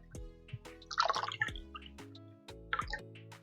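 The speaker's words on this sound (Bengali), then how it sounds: "এইভাবে চিপড়ে জলটাকে বের করে নিতে হবে।" Cleaned mushrooms are squeezed by hand to press out the water, giving wet squishes and scattered drips in short bursts over a soft, steady background.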